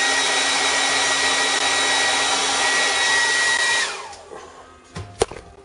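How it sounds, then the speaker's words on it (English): A hair dryer blows steadily and loudly at close range, used to dry a cleaned paint brush during slate painting, then cuts off abruptly near the end, leaving a few faint handling clicks. "Let me hit this with the air dryer real quick."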